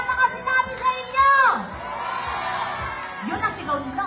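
A crowd at a political campaign rally in Manila cheers and shouts, loud and close, with whoops and a swelling roar after a speaker's voice over a sound system briefly rises over the noise.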